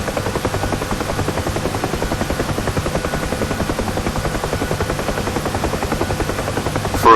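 Steady rotor thump and turbine whine from a UH-1 Huey helicopter in the DCS World flight simulator, holding a continuous, even rhythm close up with no voices.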